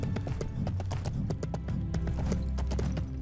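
Horse hooves galloping in the LEGO Lord of the Rings video game, a fast steady clip-clop rhythm running throughout, loud and close with occasional neighs.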